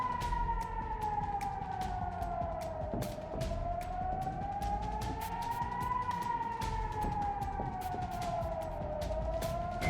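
An air raid siren in Ukraine wails continuously and loudly, its pitch slowly rising and falling in long sweeps over a steady background of noise and scattered sharp clicks.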